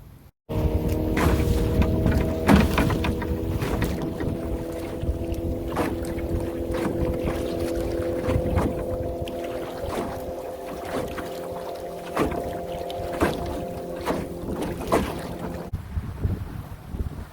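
Motorboats on Lake Taneycomo, a steady outboard engine drone holding through the whole stretch with buffeting wind and scattered knocks and thumps, no talking.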